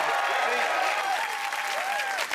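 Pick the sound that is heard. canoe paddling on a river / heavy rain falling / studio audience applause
studio audience applause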